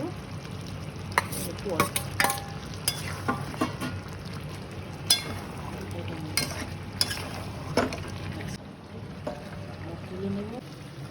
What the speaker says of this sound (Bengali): এবার টমেটো দিচ্ছি